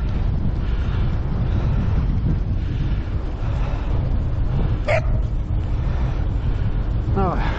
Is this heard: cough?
no